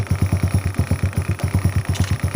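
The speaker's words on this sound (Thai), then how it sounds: "เดี๋ยวผมจะเร่งเครื่องนิดนึง" A Honda Dream motorcycle engine running close by with a rapid, pulsing low rumble and rattling clatter, holding steady rather than rising.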